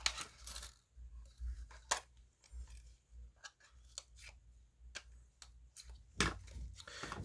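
2014 fifty-won coins are handled while a collection album is assembled, giving sharp, scattered metallic clicks and clinks with quiet pauses between, close to the mic and without talk.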